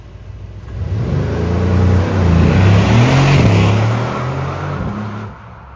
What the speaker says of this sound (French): Écoutez-le, le gros V8 allemand.